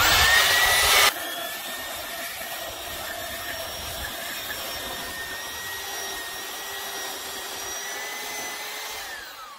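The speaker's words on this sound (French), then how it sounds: "On peut voir que le ponçage se fait bien." An electric belt sander runs continuously as it sands, a steady close motor whine with a humming tone, louder and harsher for the first second before settling and fading slightly at the end.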